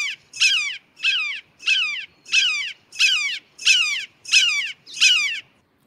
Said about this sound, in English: Now, what's the red shoulders going to sound like?